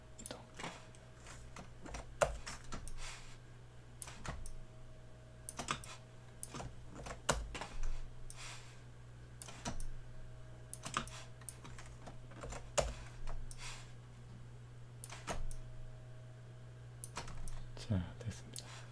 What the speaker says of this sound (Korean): 컨트롤 U 엔터 누르고 컨트롤 U 엔터 Alt 키 누르고 선택 취소